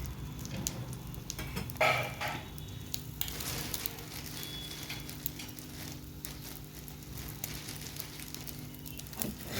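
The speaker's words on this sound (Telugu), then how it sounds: "ఇంకేమైంది బాగా ఫ్రై అవ్వాలి హైలో పెట్టుకొని" Food sizzling and crackling steadily in a pan over high heat, a soft continuous fry with occasional small pops and stirring, fairly quiet and without talk.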